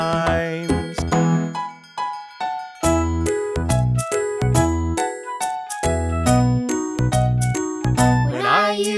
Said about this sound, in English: I can hear the wind chimes.